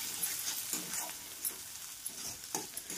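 Crushed peanut powder being stirred into frying thecha, close-up scraping and spoon clicks over a continuous sizzle, with irregular taps throughout.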